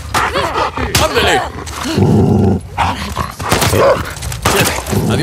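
A dog growls and snarls in the Last of Us Part 2 game amid loud combat noise, with sharp impacts and crashes breaking through and brief gaps of quiet between bursts.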